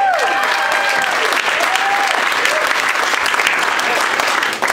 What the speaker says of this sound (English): please give a round of applause for all the comics you guys seen tonight